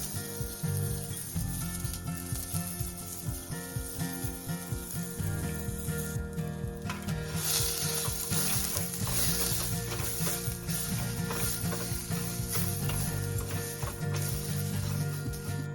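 Freshly washed rice sizzles loudly in olive oil in a pot, a steady close crackle with rhythmic scraping and stirring clatter running throughout.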